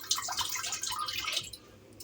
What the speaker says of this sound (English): we're going to take the water and pour at least halfway